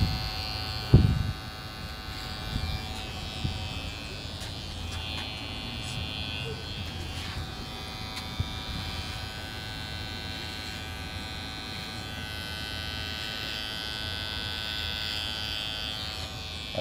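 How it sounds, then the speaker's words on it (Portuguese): An electric hair clipper buzzes steadily and close up as a barber finishes a haircut, a constant motorized drone with a brief knock near the start. "Estou fazendo acabamento com a maquininha."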